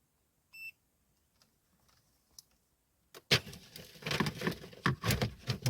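A single short electronic beep from a multimeter on continuity setting rings out in near silence, followed by faint clicks, then a burst of rustling and clattering handling noise.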